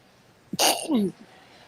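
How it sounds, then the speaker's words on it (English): One abrupt, close sneeze, a sharp burst with a short voiced tail, set against quiet room noise. "That was a sneeze."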